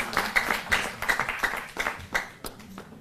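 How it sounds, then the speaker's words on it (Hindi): Scattered hand claps from a gathered crowd honouring a chief minister at a turban-tying felicitation ceremony, coming in uneven bursts rather than a full roar, moderately loud and close. "जोरदार तालियों से हम सहभागी बने इस सम्मान में"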